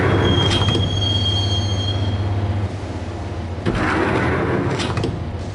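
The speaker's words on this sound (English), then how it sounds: "the train doors had already shut behind me, and I was in for the ride" A subway train ride in the video game Max Payne: a loud rolling rumble with squealing wheels and a sustained low drone, plus bursts of screech and clatter as the car moves along the track.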